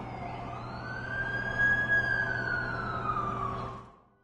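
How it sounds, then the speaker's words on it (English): A single ambulance siren wails in a long rising and falling tone over a low steady engine rumble, fairly close and then fading out at the end, with no talking. "That's the ambulance I called."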